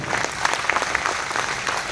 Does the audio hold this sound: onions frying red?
no